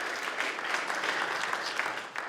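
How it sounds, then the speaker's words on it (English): Audience applause at an annual meeting, a steady dense wash of clapping from a room of people, moderately loud and continuous for a couple of seconds with no talk over it. "Applause for Mike Dowslow."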